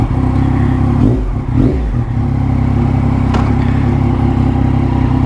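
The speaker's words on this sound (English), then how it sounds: "Oh, I just love the noise of a triple" A Yamaha MT-09 gen 2 motorcycle with a triple-cylinder engine revs close by, its loud, steady rumble swelling briefly, then settling into a sustained throaty drone.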